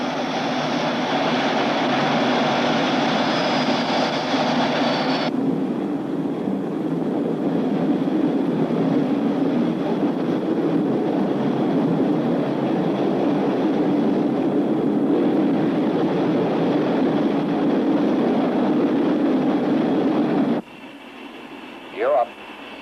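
Boeing B-47 Stratojet jet engines spool up for takeoff at full power, a loud, steady broadband roar with a high whine that drops into a deep sustained rumble, then cuts out near the end.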